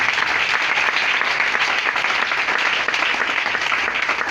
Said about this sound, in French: Acclamez bien le Seigneur Jésus.